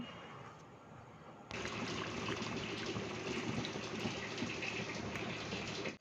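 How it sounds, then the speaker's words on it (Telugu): Water from a small glass poured into a pan of chicken curry, a steady gushing splash starting abruptly after a quiet stretch and running loud and continuous to the end, with no talking. "అందులోకి అయితే ఒక చిన్న గ్లాస్తో అయితే వాటర్ వేసుకున్నాము"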